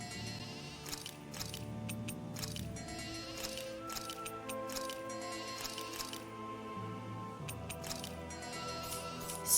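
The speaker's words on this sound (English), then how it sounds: "Speedy sheep." Sheep bleat in the video game Tales of Arise, several wavering calls at moderate volume over game ambience and scattered light clicks and clatter, with no voices.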